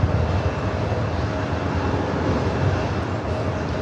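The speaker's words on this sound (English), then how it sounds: "United Airlines Flight 39 taking off to Tokyo Haneda on the 787-10 Dreamliner." A United Airlines Boeing 787-10 Dreamliner roars down the runway on its takeoff roll at Los Angeles airport, a steady broadband jet rumble holding loud and even throughout with no voices.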